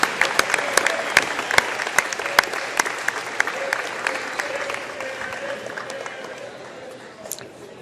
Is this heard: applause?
yes